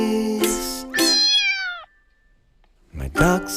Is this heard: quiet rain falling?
no